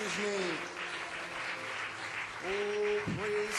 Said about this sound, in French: Donnons-lui une autre main d'acclamation.